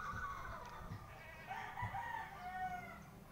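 Backyard chickens and a rooster kept in a coop alongside pigeons, heard as scattered clucks and a drawn-out crowing call at moderate distance over a low outdoor background.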